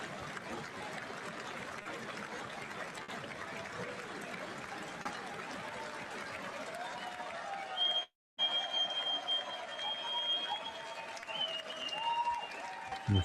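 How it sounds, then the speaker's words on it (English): Applause from a large chamber crowd at the State of the Union address rolls on steadily with crowd noise and a voice talking over it, then briefly cuts out before continuing, with a thin tone running on top. "Huge applause."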